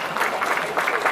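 Many hands clap in a continuous, fairly loud wash at the Miyar Kambala buffalo racing finals, with slight swells in intensity and a faint murmur of voices underneath.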